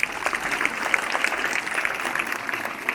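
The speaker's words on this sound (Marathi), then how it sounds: "सर्व विद्यार्थ्यांसाठी आणि उपस्थितांसाठी एक जोरदार टाळ्या होऊन जाऊ दे" Applause at a school Independence Day celebration, a crowd of students and guests clapping steadily for a few seconds with no talk over it.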